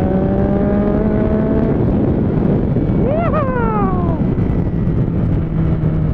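A motorcycle passes on a street, its engine note rising and then falling in pitch as it goes by, loud over steady wind noise, with a voice briefly heard nearby.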